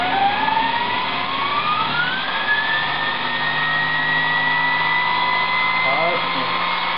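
A Kaylor kit electric motor coupled to a Volkswagen transaxle with stock flywheel and clutch whines as it spins up. Its pitch climbs smoothly and then holds at a steady high-RPM tone, loud and continuous.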